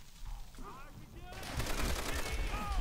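Gunfire in the Call of Duty: World at War veteran campaign, a quiet stretch with a voice giving way to a steady rattle of shots and game noise that grows louder toward the end.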